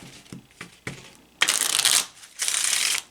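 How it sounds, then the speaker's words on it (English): A few soft card riffles and taps, then two long, loud bursts of cards being shuffled close by, with a brief pause between them. "So I'm shuffling."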